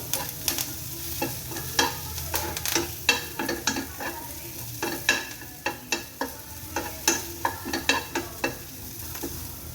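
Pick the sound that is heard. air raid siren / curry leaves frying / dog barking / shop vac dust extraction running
curry leaves frying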